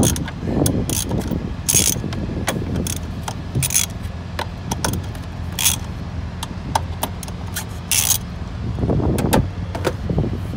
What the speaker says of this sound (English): Extension on it. Take this top cover off. 4